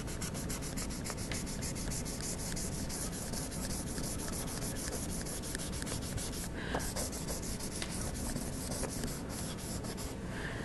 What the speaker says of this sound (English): As I erase, I'll need to change surfaces of my ruler, or my eraser.